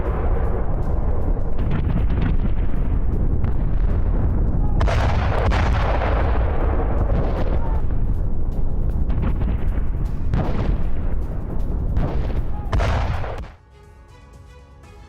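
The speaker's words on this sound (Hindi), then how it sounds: "ड्रोन से पोक्रोवस्क इलाके की ओर बमबारी की गई है।" Repeated loud, close blasts of explosions from drone bombardment in wartime fighting near Pokrovsk, with heavy booming bursts rolling through continuous low rumble for about thirteen seconds before it drops abruptly to quiet.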